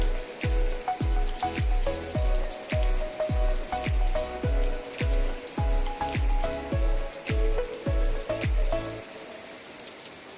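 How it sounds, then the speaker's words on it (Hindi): Steady, regular rainwater drips through a leaky roof of a mud house, landing one after another at a near-even pace, each a sharp low plop with a ringing tone, close by and unaccompanied. "यहाँ पे अब बारिश होने लगी तो अच्छा लग रहा है, लेकिन पानी बहुत ज़्यादा हर जगह से ही चू रहा है।"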